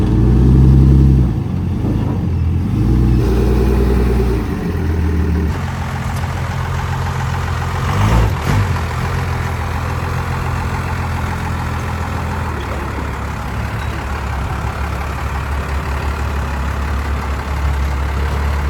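A mud truck's engine rumbles loudly up close while the truck is loaded onto a trailer, rising in a strong rev early on, then settling into a steady, heavy idle.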